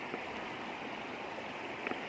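A stream flowing down a water channel where fish traps are set, giving a steady, close rushing wash with no one talking.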